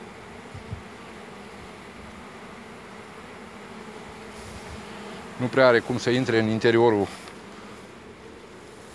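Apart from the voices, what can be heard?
bees buzzing at a hive entrance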